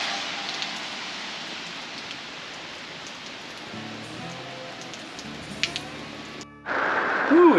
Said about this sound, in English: it's raining like crazy now